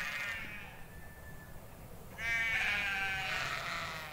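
Black sheep bleat about a hundred metres off, distant wavering calls, one drawn out early and a louder fuller bleat from about two seconds on, over faint outdoor ambience.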